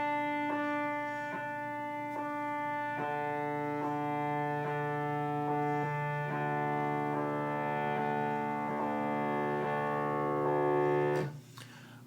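A Kurzweil PC3 synthesizer sample loops bi-directionally, playing forward then backward, as a steady harmonic tone with evenly spaced partials that shift in pitch at regular intervals, played alone and loud, ending with a short noisy burst.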